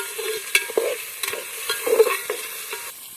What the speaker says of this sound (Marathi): आता पुन्हा आपल्याला चांगलं हलवून घ्यायचं आहे तर थोडा वेळ असं तळून घ्यायचं आहे